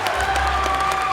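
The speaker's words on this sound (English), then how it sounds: "a huge round of applause for a fantastic junior category." Audience applause at a bodybuilding show's junior category awards, a dense steady wash of clapping from a crowd, loud and continuous with faint cheering mixed in.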